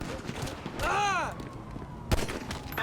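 A gunshot in the video game GTA 5, a sharp single crack late in the clip, preceded by an exclaiming voice with talk around it.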